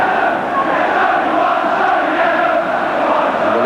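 A large Liverpool football crowd roars and jeers at a defensive mistake, a dense, loud and sustained wall of voices filling the stadium.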